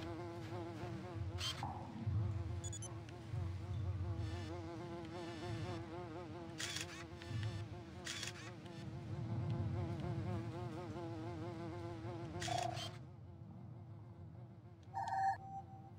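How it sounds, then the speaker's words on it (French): Flies buzzing in the video game Beyond Good & Evil, a continuous wavering insect drone close by with pulsing pitch, punctuated by several short bright electronic game tones. "Une mouche à marde."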